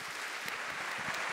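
A crowd applauding, dense steady clapping throughout, moderately loud with no voices over it.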